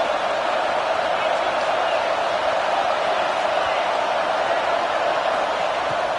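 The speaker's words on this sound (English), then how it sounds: "This crowd knows when to bring it." Steady roar of a stadium crowd at a South Carolina vs LSU college football video game, a dense, unbroken wash of cheering noise that holds constant throughout with no distinct voices.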